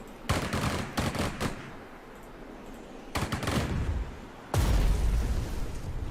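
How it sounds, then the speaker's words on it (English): Artillery and gunfire in a war video game mission at the Battle of Moscow: a cluster of sharp booms and shots, a short lull, then more bursts ending in a heavy, rumbling blast. "Sure, let's actually use this artillery too."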